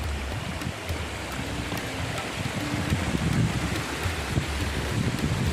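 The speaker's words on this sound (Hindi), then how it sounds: "इसकी पानी की गिरती हुई आवाज़।" Water of the Ghaghar river rushes and splashes over rocks in a jungle, a continuous, full, hissing roar close by that swells slightly midway, with no voices over it.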